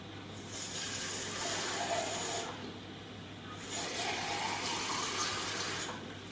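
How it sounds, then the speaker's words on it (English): Tap water runs into a cup, filling it in two steady gushing pours separated by a short pause, close and fairly quiet, with a low hum underneath. "I fill mine right up there with water"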